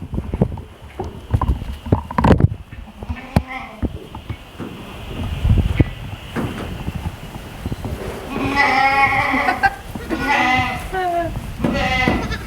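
Newborn goat kids, a few days old, bleat alongside their mothers in a pen, with several overlapping cries growing louder toward the end beneath intermittent human talk and rustling.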